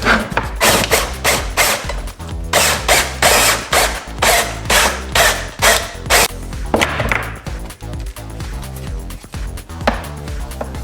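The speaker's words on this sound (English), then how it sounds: "eventually move on to the step drill" A power drill with a step drill bit grinds through a plastic dirt bike airbox in repeated bursts, starting and stopping with short pauses, loud and close throughout.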